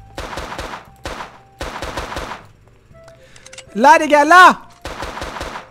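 Cowboy-themed video game gunfire, several rapid bursts of sharp shots separated by short pauses, loud and close. Someone speaks briefly, and a whistling tonal effect rises between the volleys.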